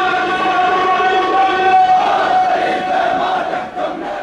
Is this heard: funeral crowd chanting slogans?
yes